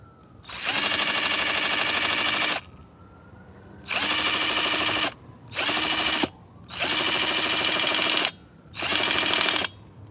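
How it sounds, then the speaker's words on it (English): A power drill whirs in five loud bursts of varying length, each starting and stopping abruptly with short quiet gaps between, while working on an HPI Savage X 4.6 RC truck. "Get in there, drill."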